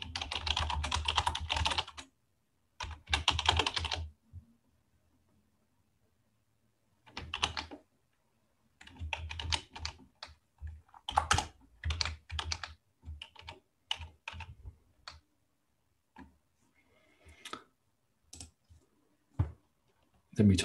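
Typing a command on a computer keyboard, bursts of close rapid key clicks separated by pauses, with brief quiet gaps and some short stretches of talking between them.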